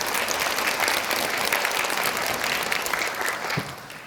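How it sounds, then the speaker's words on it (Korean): An audience at an academic conference on Buddhist thought claps steadily throughout, a dense, even wash of applause that tapers slightly at the end. "박수 부탁드리겠습니다."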